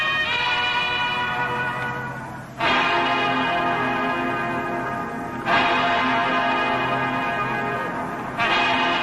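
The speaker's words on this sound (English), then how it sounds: "The sound of the campus chime at Carmen, Ohio." Ohio State campus chimes at a 1958 Rose Bowl broadcast ring out in slow, resonant bell tones, with fresh strikes about every three seconds layering over lingering hums, loud and steady with no talk.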